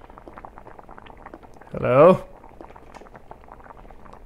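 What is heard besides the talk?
pot boiling in the video game The Witch's House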